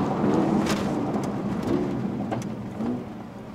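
A Mercedes-AMG A 35 hatchback on the road gives off a series of pops and crackles from the exhaust as it downshifts, set against a continuous low engine and road rumble.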